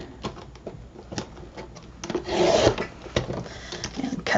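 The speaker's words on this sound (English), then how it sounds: "we're going to put this in the trimmer again" A paper trimmer slicing through paper for a mini folio, a short scraping rasp of the blade drawn along the cut, close and moderately loud amid lighter handling rustles.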